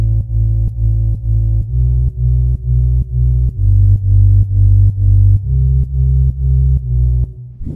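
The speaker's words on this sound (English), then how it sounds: "Add that sub bass." Electronic sub bass made in FL Studio with side chain, EQ and reverb, for a track: a deep, loud, pulsing tone that pumps in a steady rhythm and shifts pitch every few bars, with no voices.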